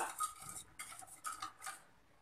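A spoon stirs paniyaram batter for Chettinad paal paniyaram in a bowl, making several quiet scraping and clinking strokes in short bursts, close up, with no talk.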